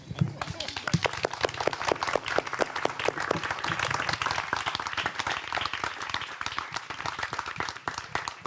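Audience at a Hungarian book launch claps steadily, dense applause holding strong for several seconds before slowly thinning, heard close and fairly loud.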